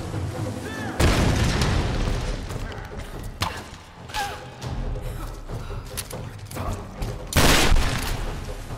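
Shotgun blasts boom in the Tomb Raider Definitive Edition game, with loud, heavy shots near the one-second and seven-second marks over a dense backdrop of gunfire and combat noise, with no talking.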